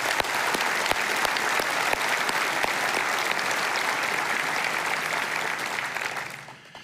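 An audience at a State of the City event applauds council members in a steady, dense round of clapping that fades out after about six seconds.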